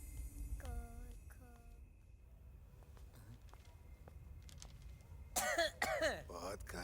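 A man coughs and clears his throat a few times at a quiet indoor moment in a Hindi film scene. A brief voice follows, and a louder vocal burst comes near the end.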